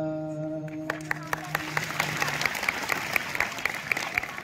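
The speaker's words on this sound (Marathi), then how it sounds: "जसं तुम्ही सगळ्यांनी टाळ्या वाजवल्या ना" A school audience at a poetry performance breaks into applause that builds from a few claps into steady, sustained clapping, fading in over lingering tones.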